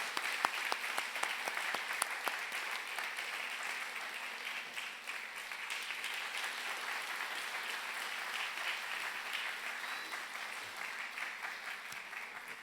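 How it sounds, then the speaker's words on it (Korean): A church congregation at a Sunday worship service for the church's 54th anniversary claps in sustained, steady applause, dense and even for several seconds, heard from within the hall. "하나님 앞에 영광의 박수 올려드리겠습니다"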